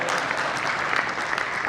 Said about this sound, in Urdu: یہ تھوڑا زیادہ اچھا شعر تھا جس کی تالیاں بجائی آپ نے